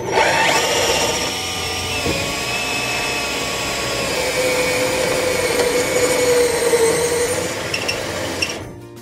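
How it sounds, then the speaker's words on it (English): A power tool whirs steadily and loudly while driving bolts to mount a toolbox on a 1999 GMC truck, a continuous close-up drone that ends in a few brief bursts. "Today we're bolting down a toolbox in a"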